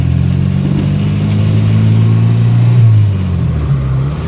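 A Fiat X1/9 engine hums loudly and steadily up close, its low drone shifting pitch as the revs rise and ease back, with no voices over it.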